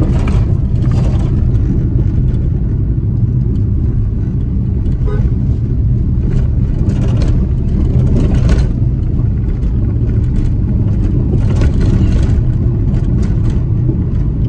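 A car drives along the rough, broken Goa road between Chiplun and Sangameshwar, its engine and tyre rumble loud and constant, with bumps and rattles from the jolting cabin throughout.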